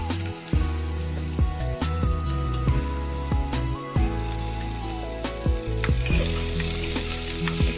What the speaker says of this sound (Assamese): আৰু আলুখিনি দি দিম এতিয়া।